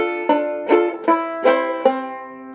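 Bright, twangy banjo-ukulele notes alternate between the second and third strings in a steady mountain-style picked pattern from 'Shady Grove', ringing close and clear with a metallic plucked edge.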